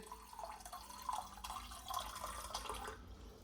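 Water runs steadily from a tap for a few seconds, a continuous splashing stream with small bright drips, close by.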